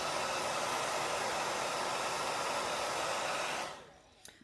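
Hair dryer blowing steadily on chalk paste spread across a wooden sign board, a loud, even broadband whoosh that runs for most of the clip and then cuts off, leaving a few faint clicks.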